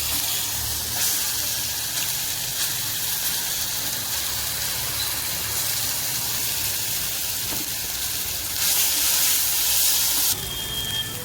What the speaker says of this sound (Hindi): अब तोरी का पेस्ट इसमें डाल देता हूँ मैं।